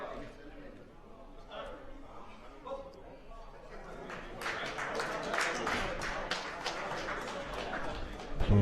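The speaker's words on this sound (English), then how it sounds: "Applause rattling around" Applause at the men's -59 kg event of the 2015 IPC Powerlifting European Open Championships in Eger rises to a quick, scattered clatter of hands in a large hall, following quieter crowd murmur and a commentator's talk.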